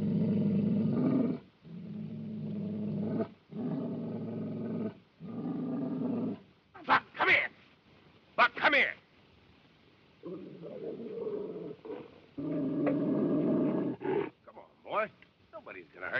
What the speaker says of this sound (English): He'd have made a great dog.